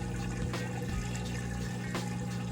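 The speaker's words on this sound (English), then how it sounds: "we're gonna fill back up with fresh, clean water for the rinse cycle, which it'll agitate on" A Maytag Bravos XL top-load washer fills with fresh water for its rinse cycle, a steady, continuous rush and splash of running water that holds even and close throughout, with no talking.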